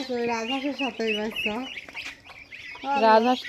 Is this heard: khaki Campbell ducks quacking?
yes